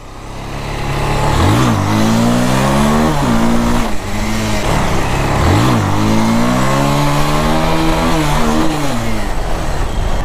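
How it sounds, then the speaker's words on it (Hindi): A used motorcycle engine revving hard during a wheelie on a road, loud and close, climbing and dropping through several rising pitch sweeps over steady wind and road noise, with no talking. "हो जाए व्हीली"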